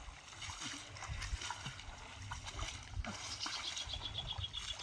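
Splashing water from a person swimming in a village pond, steady irregular sloshes and splatters close by, with voices talking over the activity.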